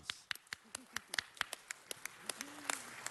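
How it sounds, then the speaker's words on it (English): Sparse, distinct handclaps from a small group at a city council meeting, irregular and fairly quiet, with faint voices murmuring underneath. "let's give them a round of applause"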